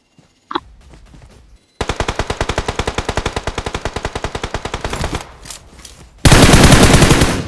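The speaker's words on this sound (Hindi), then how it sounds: "अब देखो वो किसी के ऊपर फायर कर रहा था" Automatic gunfire in the mobile battle-royale game BGMI / PUBG Mobile: a short shot, then a long, steady rapid-fire burst, a pause with faint rattling, and a final very loud, dense burst close up.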